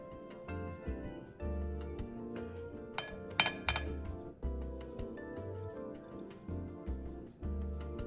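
A spoon stirs taro and coconut milk batter in a bowl, clinking rhythmically against the side in regular strokes, close and fairly quiet.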